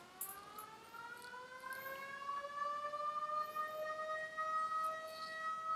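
A long wailing tunnel emergency alarm siren rises and holds steady, sounding loud and continuous with echoing resonance, no voices.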